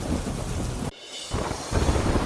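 Dense, heavy rain roaring with a deep low rumble of thunder, briefly dipping before the downpour surges back.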